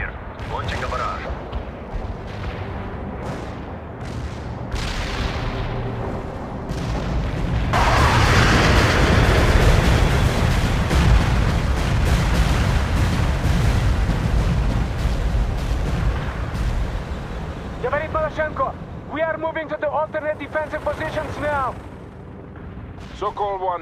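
An artillery barrage in World in Conflict pounds the area with a run of booming impacts that swell into a thick, roaring wall of explosions, then thin out as radio chatter and other battle sounds return.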